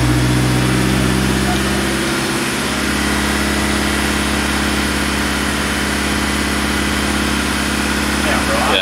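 A BMW E36 engine idles steadily in a garage, a low continuous hum with a slight dip partway through, while people talk nearby.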